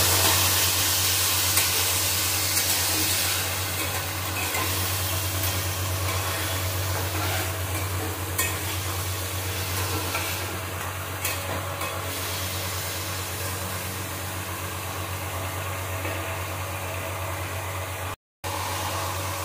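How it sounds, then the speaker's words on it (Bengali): Sweet pineapple chutney bubbles and sizzles in a pan while it is stirred, a steady, dense hiss with a low hum underneath, close and constant for the whole stretch and broken only by a brief cut near the end. "তারপর একটু নাড়িয়ে চাড়িয়ে দেবো।"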